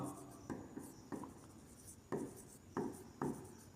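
Pen writing out a geometry proof in a Class 10 similarity lesson, with scratchy strokes in short bursts and pauses, fairly quiet and close, with no talk.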